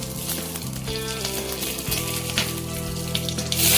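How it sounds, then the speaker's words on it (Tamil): Whole fennel, cumin, peppercorns and cinnamon frying in hot oil in a kadai for Chettinad gravy, a steady close sizzle with low background hum and no talking, rising slightly at the end. "கடாயில் எண்ணெய் காஞ்ச பிறகு சோம்பு, சீரகம், மிளகு, பட்டை எல்லாத்தையும் போட்டு நல்லா ஃப்ரை பண்ணிக்கணும்"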